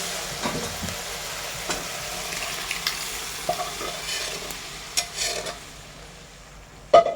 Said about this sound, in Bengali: দিয়ে দিলাম বন্ধুরা, ভালো করে নেড়ে চেড়ে নিচ্ছি